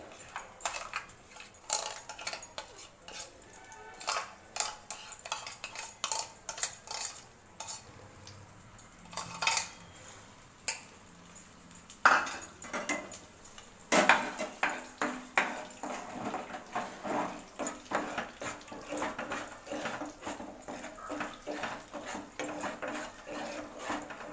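Onion paste frying in a little oil in a pan, with soft sizzling under frequent scraping and stirring taps of a spoon against the pan, fairly faint and close, no talking.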